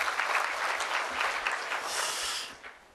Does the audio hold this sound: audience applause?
yes